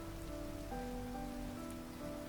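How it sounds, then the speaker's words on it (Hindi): A rain sound effect in a Hindi horror story set on a monsoon night in the hills of Ranikhet: a soft, steady hiss of rainfall with quiet sustained musical tones over it, continuous and low in volume. "बारिश तो आज कमाल की है"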